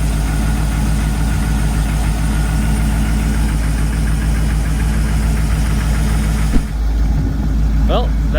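A 1978 Ford F100 truck engine idling, a loud, steady low rumble with a rhythmic pulsing beat, close up; near the end a brief thump and a voice speaks over the running engine.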